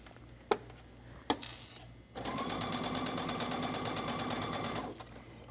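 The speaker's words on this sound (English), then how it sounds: "I'm just stitching right in the center of this lace trim." A sewing machine runs a long straight basting stitch down the center of lace trim on a tee, a fast even rattle of needle strokes lasting about three seconds after a couple of sharp clicks.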